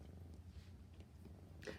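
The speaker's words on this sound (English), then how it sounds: "I'm hoping that you guys can hear some of her purring." A pet cat purrs softly and close, a low steady rumble with little else around it.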